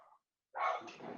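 A dog named Captain lets out one short, fairly close bark after a brief yelp and a moment of silence.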